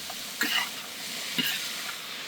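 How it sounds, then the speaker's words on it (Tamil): Greens and lentils frying in a pan, stirred with two brief scraping strokes over a faint, steady sizzle. "நல்லா கலக்கி விடணும்"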